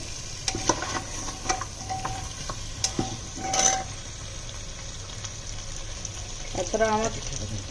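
Potatoes stirred in a frying pan for lunch, with a spatula scraping in a series of separate strokes over a low sizzle, and a faint voice briefly near the end.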